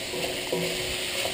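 Milkfish filling for stuffed bangus is stir fried in a pan, a low steady sizzle with a faint scrape of stirring.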